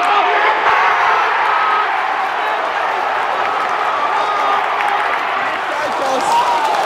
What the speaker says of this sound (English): the Collingwood chants are starting